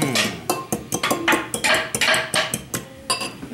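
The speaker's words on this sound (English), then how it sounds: "And beat with a fork or whisk until totally combined." A fork beats eggs against a bowl in quick rhythmic strokes, a steady series of close clicking, scraping taps with no voices.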